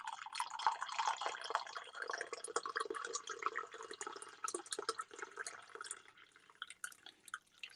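Coffee poured into a cup, a steady trickling liquid stream that holds for several seconds at moderate level and then tapers off near the end, with no talking.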